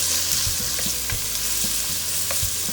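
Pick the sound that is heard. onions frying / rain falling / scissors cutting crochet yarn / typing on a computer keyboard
onions frying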